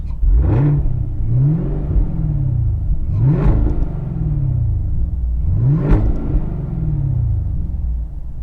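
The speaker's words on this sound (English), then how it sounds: "And this car sounds so good." A deep, rumbling 2019 Chevrolet Camaro ZL1 1LE V8 engine revs repeatedly, rising and falling in three strong sweeps over a steady idle, loud and close with no talking.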